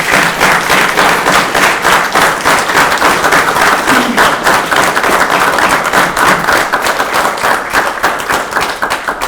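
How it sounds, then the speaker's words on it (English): Audience applause at a sheriff's office award ceremony: loud, close, continuous clapping from a sizable crowd, with a few sharper individual claps standing out against the steady wash and no speech over it. "give them another round of applause"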